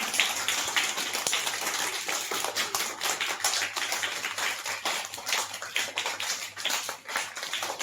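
A group of schoolchildren clapping together in a classroom, a steady, dense patter of many hands that carries on for several seconds at moderate loudness.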